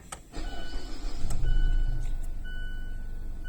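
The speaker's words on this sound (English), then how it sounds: "now the last thing for the day, we are supposed to start the car" A Mazda car starts after a transmission fluid change and gasket replacement. A brief crank leads into a loud, steady engine rumble that stays close and runs alone, with a thin whine above it.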